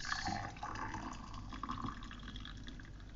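Water pouring steadily into a container, a continuous gurgling fill heard up close without any voices.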